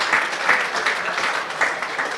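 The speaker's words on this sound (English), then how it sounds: "Can we have a round of applause for him" Crowd at a golf tournament prize ceremony at a golf club applauding steadily, a continuous wash of many hands clapping at moderate loudness with no talk over it.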